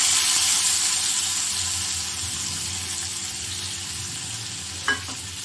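Turkey berry kuzhambu ingredients sizzling steadily in hot oil in a pan, a constant loud frying hiss with one brief clink near the end.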